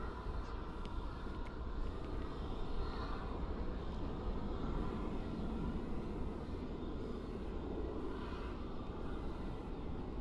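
An American Airlines jet passing very high overhead at night near Dallas/Fort Worth airport, a faint, steady distant roar of engines that holds at an even level throughout, with no one talking.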